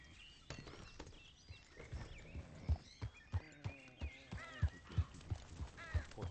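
Horse hooves clip-clop at a steady walking pace in a roleplay video game, with a dozen or so distinct, fairly close thuds and faint background chatter underneath.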